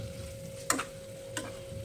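Spices for beef liver bhuna fry in a pan with a soft, steady sizzle, broken by two brief scraping clicks as a spoon stirs them.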